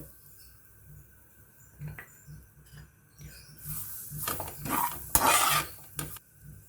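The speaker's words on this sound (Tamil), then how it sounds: "ஒரு கடாயில் நம்ம எடுத்து வச்சிருக்க தேங்காவை சேர்த்து நல்லா வறுத்து எடுத்துக்கலாம்" Grated coconut roasting in a kadai for ragi laddu, with a spoon scraping and stirring against the pan in bursts that grow louder and busier toward the end, over a faint steady hum.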